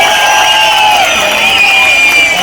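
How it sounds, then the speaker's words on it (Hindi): Loud crowd at an outdoor political election rally in Chandrakot, Ramban, Jammu and Kashmir, cheering and shouting continuously in a dense, sustained roar with whistles, close and enveloping. "जोर से ताली बजाइए"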